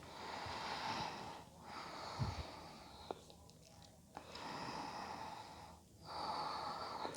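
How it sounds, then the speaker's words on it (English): Deep breathing during a gentle morning yoga vinyasa, long steady inhales and exhales in a high lunge, close and soft, with a couple of brief pauses between breaths. "Nice deep breath."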